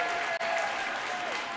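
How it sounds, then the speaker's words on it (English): Fans clapping and cheering in a gym during a girls high school basketball regional semifinal, a steady wash of crowd applause with a brief dip, under an announcer's voice. "The fans, some more applause."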